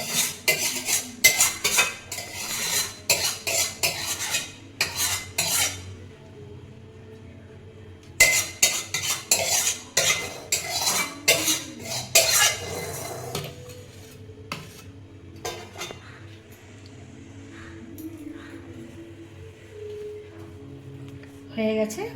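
Shrimp and taro curry scraped and poured from a metal pot, with bursts of close spoon clinks and clatter that ease into quieter, sparse scraping toward the end.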